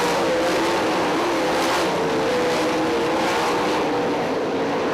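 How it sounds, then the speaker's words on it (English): 410 sprint cars roar around Lawrenceburg Speedway, a loud continuous engine drone with rising and falling pitch as the cars race past. "He is just passing cars with ease, is Kaley Gharst."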